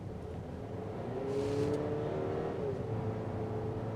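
A 2026 Buick Enclave Avenir with a smaller turbocharged engine is floored from about 30 mph, its engine droning steadily and climbing in pitch at a constant, fairly loud level, with no talk.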